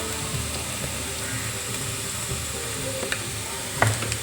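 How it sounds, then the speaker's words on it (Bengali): Boiled potatoes with coriander powder, turmeric and chilli powder sautéing in a pan, giving a steady close sizzle with stirring scrapes and a sharper clink near the end, with no talking. "তারপরে একটা ভালো করে কষাতে থাকবো।"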